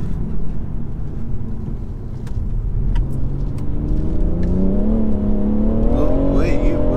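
A BMW M2 without a limited-slip differential pulls hard at full throttle, its engine note climbing steadily and loudly in pitch from close inside the car as speed builds toward 60.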